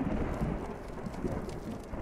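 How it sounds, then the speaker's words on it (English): A thunderstorm in the video game Fallout rumbles on without pause, with deep low thunder rolling under a steady wash of rain, fairly loud throughout and no voices. "That lightning doesn't sound too friendly"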